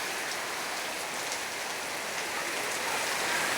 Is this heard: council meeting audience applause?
no